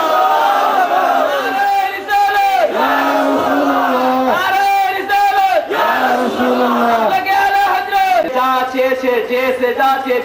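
A large crowd at a Bengali Islamic waz mahfil gathering in Silchar roars the takbir in unison, loud sustained chanted shouts rising and falling in repeated waves.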